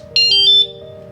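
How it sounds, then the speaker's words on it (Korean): A bicycle anti-theft alarm being armed gives a short, loud burst of rapid high electronic beeps, close and distinct over a faint steady electrical hum. "알람음이 한번 들리면 작동을 하고 있다는 거고요"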